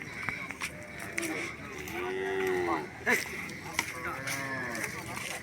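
Native breed cattle mooing at a busy cattle market, several long lowing calls rising over a noisy crowd and background chatter, with a strong drawn-out moo in the middle of the scene.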